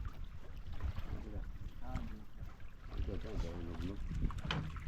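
Water laps and splashes around a boat, with wind noise buffeting the microphone and faint voices talking in the background.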